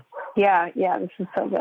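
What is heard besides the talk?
small dog barking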